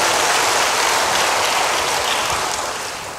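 A congregation at a church service applauds, a dense steady wash of clapping that fills the space evenly and tapers slightly toward the end, with no voices standing out.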